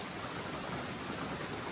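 Rain falls outside a trail shelter in Maine on the Appalachian Trail, a steady dense hiss of hard rain with no breaks, alone and fairly loud.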